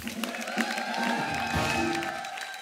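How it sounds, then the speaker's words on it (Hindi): Cheering and applause from a studio audience on a television comedy show, a brief, busy wash of crowd noise with some tonal music or voices mixed in. "एक बार गहराइयां की पूरी स्टार कास्ट के लिए जोरदार तालियां,"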